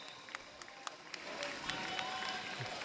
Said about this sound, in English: Cheering loudly for USA every time they score